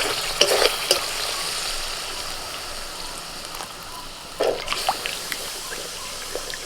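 Spice paste frying in oil in a pan, sizzling steadily with short bursts of louder crackle and scraping as it is stirred, close and alone without talk.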